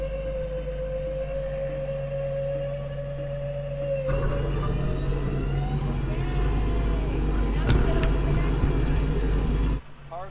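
Car driving slowly while dragging a stuck vehicle: a constant loud engine drone with a low rumble and a held whining tone that shifts midway. It ends with a sudden drop in level, and voices come in here and there.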